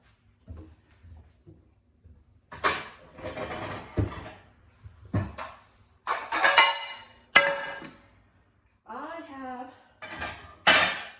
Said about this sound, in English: let's get a baking pan out